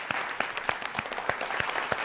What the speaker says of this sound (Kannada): ಬರಲಿ ಜೋರಾದ ಚಪ್ಪಾಳೆ.